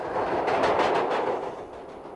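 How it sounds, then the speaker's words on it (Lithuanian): A metro train runs past in a short burst of loud rushing rumble with a rhythmic rattling pulse that fades slightly toward the end. "Ši metro"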